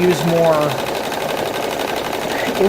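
Sewing machine stitching a wide zigzag on fabric for appliqué, a steady rapid mechanical whirring running under a person's talk throughout.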